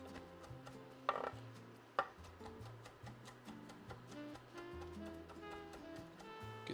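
A knife chops fresh basil on a board: two crisp, close chops stand out, followed by softer cutting beneath steady background music.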